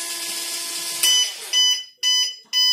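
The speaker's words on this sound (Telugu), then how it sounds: "ఇంజిన్ ఆగిపోయింది, మనం బజర్ మోడేస్తుంది." Buzzer of a drunk-driving automatic engine locking working model sounding loud and close in short repeated electronic beeps, a steady tone breaking into bursts after the engine cuts out.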